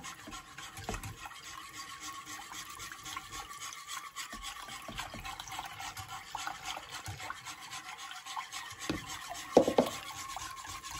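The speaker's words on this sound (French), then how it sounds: "J'ajoute mon lait tout doucement et je mélange bien." Milk poured slowly into a pan and whisked steadily to keep lumps from forming, giving a continuous close scraping, rubbing stir with occasional soft clinks and a sharper knock near the end.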